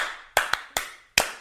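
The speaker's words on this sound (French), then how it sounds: "mesdames et messieurs, ça s'applaudit" Four sharp, separate hand claps from a small group at a French podcast, spaced unevenly over about a second and a half, each with a quick decay, and no voices.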